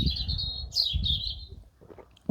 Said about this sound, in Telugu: మీరు బర్డ్ సౌండ్స్ కూడా వినొచ్చు